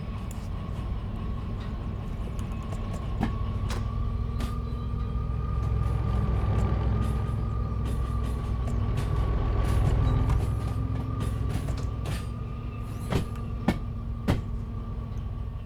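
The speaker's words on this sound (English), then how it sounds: "let's get this rear loco moving" A DE6 diesel locomotive in the train game Derail Valley rumbles steadily with a constant engine drone and mechanical hum, swelling slightly mid-run, with a few sharp clanks near the end.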